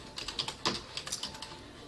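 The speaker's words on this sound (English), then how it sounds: "let me type it so you see" A computer keyboard clatters with quick, uneven keystrokes as a search term is typed, close and clear with no talking.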